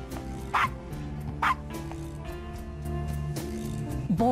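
Puppy yipping in the Gabriel Knight 20th Anniversary Edition adventure game, a few short high barks spaced out over a quiet game music bed.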